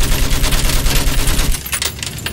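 Rapid close gunfire from the video game Battlefield 1 crackles in dense bursts, a loud sustained fusillade of machine-gun fire through the whole moment.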